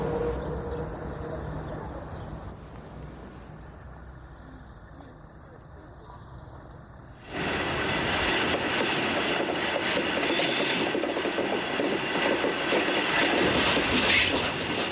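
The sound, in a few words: train running on the Petite Ceinture railway line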